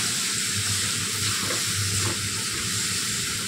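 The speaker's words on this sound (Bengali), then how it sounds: "তারপর আবারও খুব সুন্দর করে মশলার সাথে আমি এগুলো কষিয়ে নিচ্ছি" Ground turmeric, chili and cumin are sautéed with other spices in a pan for ghugni, giving a steady, close sizzling hiss with soft stirring scrapes underneath.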